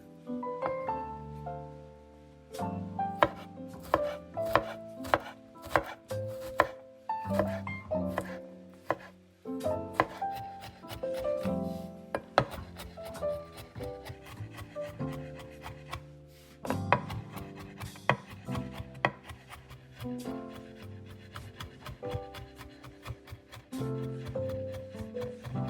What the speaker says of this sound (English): take 3 large garlic cloves and finely chop them